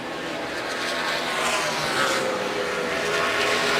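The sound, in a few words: NASCAR race car engine running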